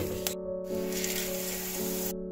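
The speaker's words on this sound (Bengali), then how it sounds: "এই তেলে দিয়ে দেব ফোড়নে গোটা গরম মশলা, 3টে ছোট এলাচ, 4টে লবঙ্গ, আর 1 টুকরো দারচিনি" Whole garam masala (small cardamom, cloves and a piece of cinnamon) hitting hot oil for tempering in a cauliflower, paneer and potato curry, a steady close bright sizzle with brief louder crackles.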